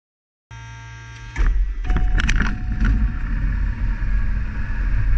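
A Diamond Star DA40 light aircraft engine cranks and fires, with a steady electrical hum first and then a loud, rough idle that rumbles continuously as the engine settles.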